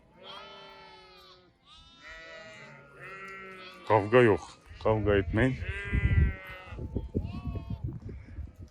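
A flock of Akkaraman sheep bleats on the slopes near Mount Ağrı, several drawn-out wavering calls overlapping one after another, some close and loud, while someone speaks among them.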